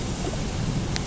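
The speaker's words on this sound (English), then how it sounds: "like the sound of the thunderstorm and the heavy rains are" Steady broadband hiss of heavy rain during a Hawaiian thunderstorm fills the whole stretch, with a low rumbling underlayer and a brief sharper spatter near the end.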